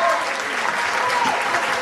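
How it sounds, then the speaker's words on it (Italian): Sustained applause from a crowd at a singing contest in Naples, steady clapping filling the whole stretch without a break. "gli applausi lunghi sono meravigliosi, davvero"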